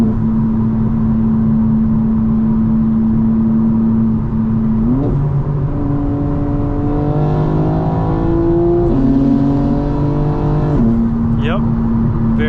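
From inside the cabin of a 2025 BMW G82 M4 on the road, a steady, muted exhaust drone climbs in pitch through several gear changes, with a voice talking over it.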